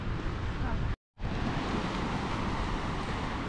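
Waves wash steadily onto a beach at Louis Phaethon Beach in Paphos, Cyprus, a broad continuous surf roar mixed with wind buffeting the microphone, broken by one brief dropout.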